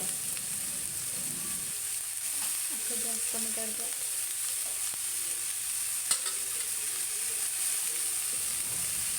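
Vegetables and flowers sizzle steadily in a hot pan with spices, with occasional stirring scrapes over a constant frying hiss.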